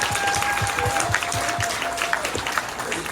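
A convention panel audience at Days of the Dead Chicago applauds Bobby Carradine at a Revenge of the Nerds panel, a loud, dense round of clapping from a sizable crowd.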